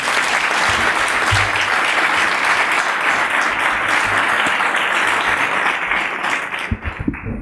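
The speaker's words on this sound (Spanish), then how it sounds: "Un aplauso, por favor." Audience at a cultural center book presentation applauds the author, sustained loud clapping that tapers off near the end as a few handling noises follow.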